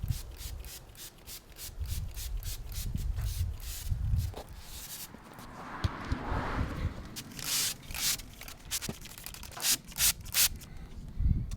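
A brush scrubs a dirty, foamed-up lawn mower that sat in a warehouse for three years, giving repeated rubbing strokes at close range with short pauses between passes.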